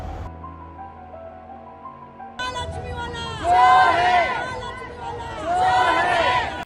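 Angry citizens crowding outside a locked jewellery shop in Kopar Khairane, Navi Mumbai, raise a loud commotion, with overlapping shouting voices swelling in two surges after a quieter start.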